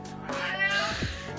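A domestic cat meows close by, giving one drawn-out call that rises and falls in pitch, with no talking over it.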